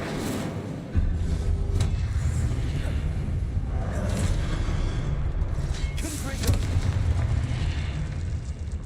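An Incendio fire spell cast in Hogwarts Legacy erupts as a deep, rumbling whoosh of flame with booming bursts layered over battle noise and a shouting voice.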